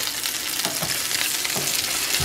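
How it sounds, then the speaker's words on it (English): Three chicken pieces sear in a hot pan for a sous vide fire-roasted tomato chicken, a steady close sizzle with a few soft utensil knocks and scrapes, no talking. "But I just want to get a nice sear on that."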